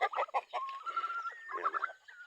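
Day-old chicks and chickens on a small farm, with close, high-pitched peeping and chirping calls over soft clucking, continuous and busy across the short moment.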